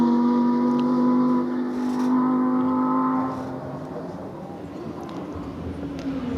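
The Elemental RP1 supercar finishes its timed run at the Goodwood Festival of Speed, its engine note fading from a sustained drone to a lower, quieter rumble as it moves away, with a commentator talking over it.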